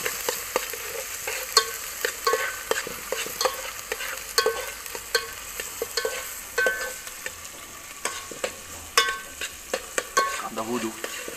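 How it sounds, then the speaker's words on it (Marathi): Onions frying in well-heated oil in a pan, a steady crackling sizzle broken by frequent sharp scrapes and clacks of a spoon stirring, close and fairly loud with no talking. "कांदा टाकून घेऊयात. तेल तापलंय चांगलं."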